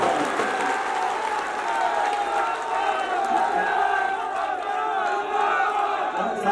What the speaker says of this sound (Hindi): जोरदार तालियां बजाइए मुकेश भाकर जी के लिए